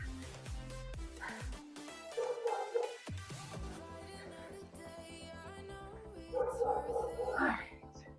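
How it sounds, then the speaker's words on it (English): Dog barking in a home basement, several short yelps and barks in two bursts, fairly distant and partly masked by music playing throughout. "What is my dog yelling at?"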